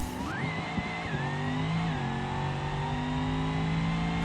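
A Moonhawk drag car in the BeamNG video game launches and accelerates hard down the strip, its engine revving loudly up through gear shifts with rising tonal whines and brief tire chirps, no voices.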